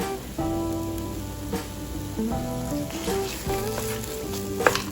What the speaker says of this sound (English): Add jaggery.